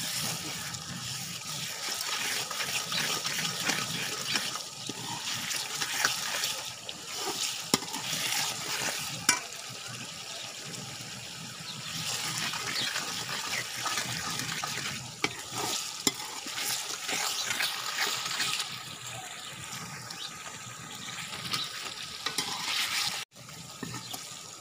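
Garlic and green chilies frying and being stirred in a pan for a dal and egg dish, with steady close sizzling and repeated spoon scrapes that continue throughout with no talking.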